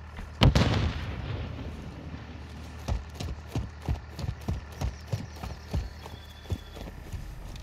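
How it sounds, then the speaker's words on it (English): Stun grenade going off in a video game, one sharp loud bang near the start, followed by a series of softer, evenly spaced thuds. "Stun grenade out!"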